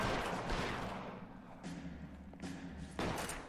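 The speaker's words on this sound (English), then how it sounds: "is that a shotgun?" Shotgun blasts in the video game L.A. Noire, several sharp reports spaced roughly a second apart, each with a short decaying tail, heard at moderate distance over a quiet background.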